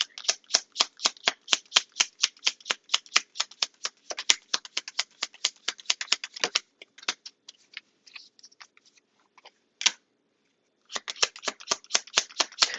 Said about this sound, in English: I'm on the last shuffle